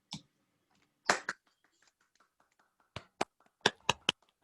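A few online meeting attendees unmuted and clapping, sparse scattered claps and snaps heard faintly through separate microphones, with gaps of quiet between bursts.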